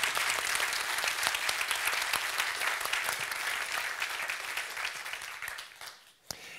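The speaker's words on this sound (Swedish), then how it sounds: "En applåd först." Audience applause at a cultural forum panel discussion, brisk dense clapping that stays even, then tapers off into a few last claps near the end.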